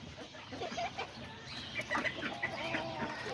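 Small Aztecas and Serama hens and roosters cluck and chatter softly in a busy, uneven flock, with short scattered calls over a quiet background.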